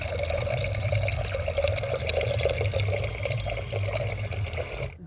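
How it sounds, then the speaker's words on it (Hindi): Water, one liter, poured into a handi cooking pot for masala chana dal, a steady splashing fill running unbroken for several seconds before stopping abruptly. "अब हम हांडी में 1 लीटर पानी रख रहे हैं।"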